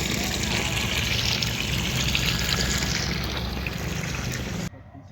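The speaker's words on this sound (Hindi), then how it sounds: "अभी देख सकते हैं पानी इस ओर से जा रहा है।" Irrigation water pours steadily into field furrows in a village plot, a continuous loud rushing wash close by, with no speech over it until it cuts off near the end.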